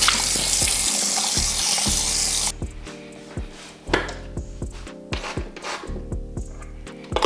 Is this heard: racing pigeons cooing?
no